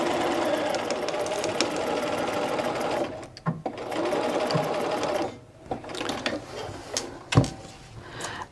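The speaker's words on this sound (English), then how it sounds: "So just sew that real quick, and you do want to backstitch because that's going to hold everything in place." Sewing machine stitching a shoulder seam while sewing with bias tape, a close rapid mechanical whirring run that stops and restarts in short bursts with clicks and handling noises between.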